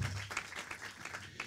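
Citizens applauding at a mayoral candidate's press conference in Mazzara, a short burst of moderately faint, dense clapping.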